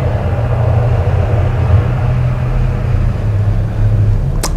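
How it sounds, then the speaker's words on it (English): A noisy truck approaches with a continuous low engine rumble that holds steady for several seconds, loud and close, ending in a sharp brief click; no one speaks. "that sounds like a truck"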